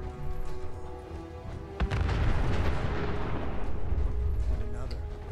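A loud explosion in the video game Fallout 4 booms in suddenly after a quieter stretch of game sound and voices, then rumbles on heavily to the end.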